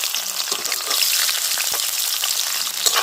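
Chopped onions hit hot mustard oil with a bay leaf in the pan, giving a loud, steady crackling sizzle that runs unbroken and close throughout, with no voices.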